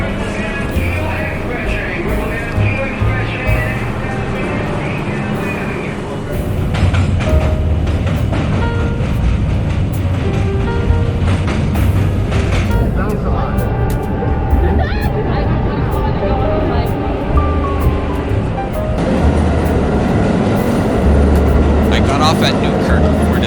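An R-32 New York City subway train runs along the line, a continuous loud rumble of wheels and motors that swells after the first few seconds and holds steady throughout, with people's voices faintly present.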